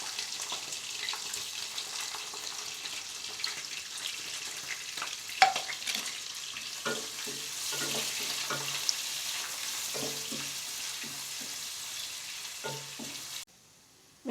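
Long-sliced onion and green chilies frying in a pan for mealmaker biriyani, a continuous moderate sizzle broken by occasional clinks and scrapes of stirring, cutting off abruptly near the end.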